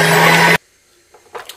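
A stand mixer kneading pizza dough for a chicken pizza runs with a loud, steady motor whir for about half a second, then cuts off abruptly, leaving near silence and a few faint handling bumps.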